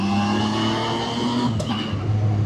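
Zontes 703 RR motorcycle accelerating hard, the engine note rising loudly, then a brief cut and a quick upshift from the quickshifter before the revs climb again.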